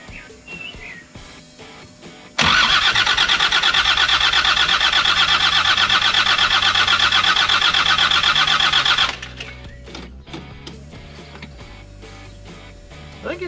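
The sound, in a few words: Land Rover TD5 diesel engine starting and running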